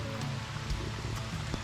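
A small stream of water trickles and splashes over a few little rocks near a modest outdoor waterfall, a steady close rushing sound with scattered droplet splashes and no talking.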